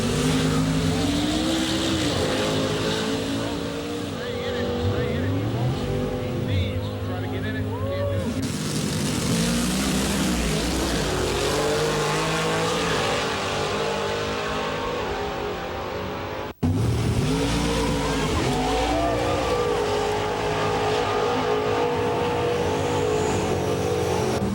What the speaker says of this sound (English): let's check back with the hot rod cars to see how they're faring in time trials